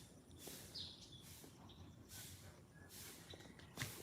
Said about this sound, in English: All I hear is the birds chirping.